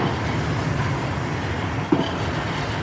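A four-car metro train rumbles past in a deep underground station, a steady broadband roar with a brief clack near the end, no talk.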